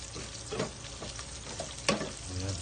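Garlic frying in hot oil for adobo with sweet potato leaves is stirred in a pan, giving a quiet, continuous sizzle with scattered scrapes and one sharp clink of a utensil against the pan.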